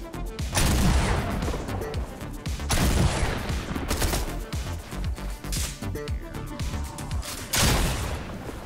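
Rapid bursts of gunfire from the Fortnite video game crack loudly in repeated volleys with short gaps between them, dominating the clip.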